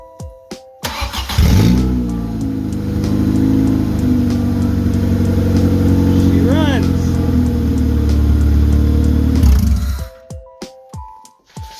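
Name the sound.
car engine running outside the vehicle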